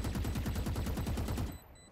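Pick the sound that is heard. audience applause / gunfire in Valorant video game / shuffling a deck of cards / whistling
gunfire in Valorant video game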